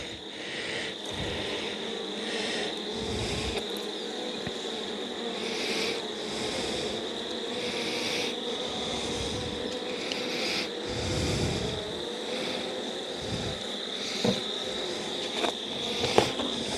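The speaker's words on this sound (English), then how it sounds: "we added bees to these and they just all flew back" Bees buzz continuously around a hive, a steady high drone from many insects, fairly faint and alone with occasional soft knocks.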